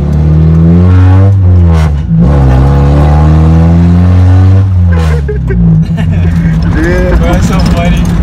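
A Mazda Miata with its muffler cut off revs hard nearby, a loud raw exhaust climbing and dropping in repeated throttle blips, with people talking and exclaiming over it.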